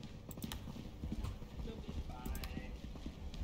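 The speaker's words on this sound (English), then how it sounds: "I heard footsteps." Footsteps in the horror video game Content Warning thud in a steady, clopping rhythm under players talking over voice chat.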